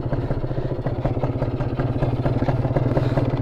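Motorcycle fitted with a PWK 30 carburetor and 32 reamer on a test ride, its engine a steady rough pulsing drone with rapid rhythmic firing close to the microphone, no talk.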